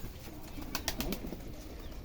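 Giribaz pigeons in a loft, a few soft cooing calls heard briefly over a low background hiss, faint and close.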